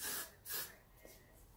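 Two short, breathy hisses of an aerosol hair holding spray, close by, separated by a brief pause, followed by quieter faint hiss.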